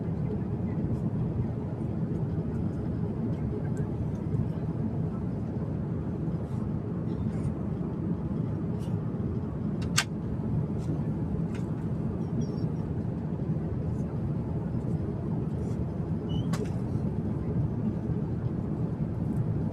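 Steady low roar of airplane cabin noise in flight on a long London to Mumbai journey, constant and even, with faint clicks and a soft voice now and then.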